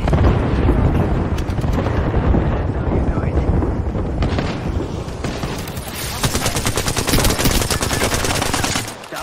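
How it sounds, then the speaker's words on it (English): Dense, continuous automatic gunfire from an online shooter video game, rattling bursts layered over a steady wash of in-game noise with a player's voice mixed underneath. "I'm covering fire."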